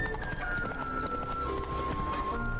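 Horse galloping in The Witcher 3 video game, a quick rhythmic clip-clop of hooves over a constant ambient background, moderately loud.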